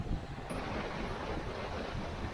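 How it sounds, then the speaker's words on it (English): Choppy lake water around Flowerpot Island churns continuously, with a constant whooshing roar of wind buffeting the microphone over it. "the waves are definitely calmer on the camping side, but it's pretty choppy out there."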